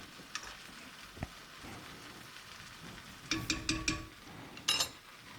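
Turmeric is stirred into chicken tikka masala, with a quiet sizzle under a few scattered taps, then a cluster of rhythmic scraping strokes against the pan and a final louder scrape.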